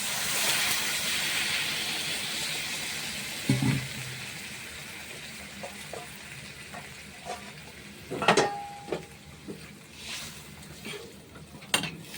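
Water is added to a pan of cooking flat beans and potatoes, setting off a brief hissing rush that fades over a couple of seconds, followed by scattered soft clinks and bubbling.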